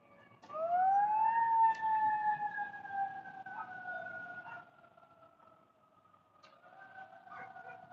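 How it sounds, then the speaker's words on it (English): A wailing emergency siren from vehicles responding to a pallet fire in Greeley rises and slowly falls in pitch, loud at first and fading as it passes, with a second siren tone joining near the end. "they're just coming with their sirens on"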